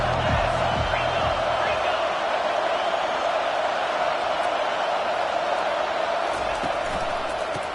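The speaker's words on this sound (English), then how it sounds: "This crowd trying to show them what it's going to be like all day in this house" Crowd roaring in a video game American football stadium, a dense continuous wall of cheering that stays loud and even throughout, with a few low thumps near the start.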